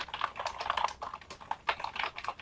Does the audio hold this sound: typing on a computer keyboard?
yes